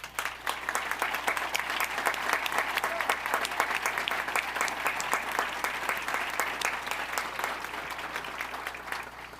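An audience applauds military veterans at a biochemistry and chemistry event, a dense, steady roar of many hands clapping that holds evenly for about nine seconds with no speech.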